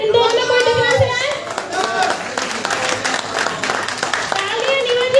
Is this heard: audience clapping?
yes